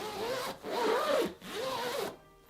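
A zipper on a throw pillow cover is pulled in three quick strokes, each a rising-and-falling rasp, close by with short pauses between, no voices.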